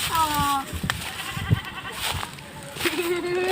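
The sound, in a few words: goats bleating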